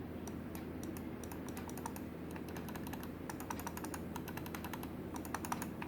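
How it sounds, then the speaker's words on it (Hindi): An old computer mouse clicks over and over in quick, irregular bursts, sharp and close, like rapid tapping, with no talk over it. "और पुराने वाली माउस की मैं सुनाता हूँ आपको।"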